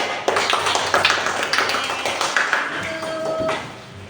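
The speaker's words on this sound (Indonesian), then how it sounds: "kita beri aplaus untuk kelompok 2" Classroom applause for a student group: a short burst of many hands clapping in a room, steady and fairly loud, then fading out after a few seconds.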